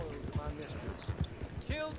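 Hooves of a horse clip-clop and gallop in a PS4 video game, quick uneven thuds repeating throughout, with players talking over them.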